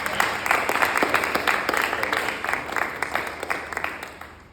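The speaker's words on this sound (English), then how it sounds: "So one more round of applause" Audience members at a Toastmasters meeting applaud a speech evaluation, with many individual claps audible in a lively burst that gradually thins and fades toward the end.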